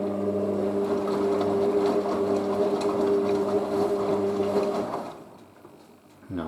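A Hotpoint Casatta WM63 washing machine runs with a steady tonal motor hum and churning water noise, loud and close, then drops away abruptly near the end, leaving a quieter background.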